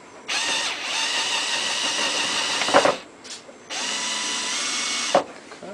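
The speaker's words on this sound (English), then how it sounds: "to get this thing reasonably lined up before drilling the final hole" A power drill bores a hole in a Nissan 300ZX fender liner, in two sustained bursts, each ending with a brief clatter, with a short pause between them.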